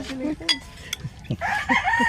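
A rooster on a breeding farm crows in short, harsh bursts, close and fairly loud, ending in a longer strained crow.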